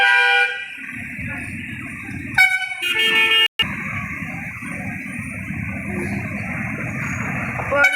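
Trucks and buses pass through a railway underbridge, honking in repeated bursts, some short toots and a longer blare, over a constant rumble of passing traffic, close and loud, with faint voices.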